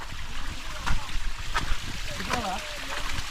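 A stream of water runs across a hiking trail at Gadaikallu Narasimha Gada fort, a steady close rush with small splashes, while people talk over it.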